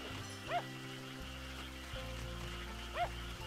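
Dog in the video game Sakuna: Of Rice and Ruin giving two short barks about two and a half seconds apart, moderately loud over a steady game music and ambience bed.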